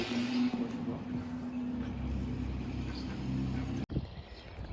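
An engine idles and revs at a car meet in Deauville where classic cars such as Mercedes 300SLs gather, with a steady low exhaust rumble close by under crowd chatter and talk, then a brief dropout and a quieter tail.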